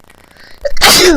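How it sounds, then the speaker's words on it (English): A single loud, close human sneeze, a brief inhale building into a sharp explosive burst with a trailing voiced tail. "Excuse me, sneezing there."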